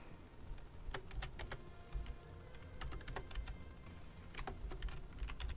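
Steady keyboard typing in the horror game Don't Forget Me, with clicky keystrokes arriving in quick irregular runs over a low background hum and no talking.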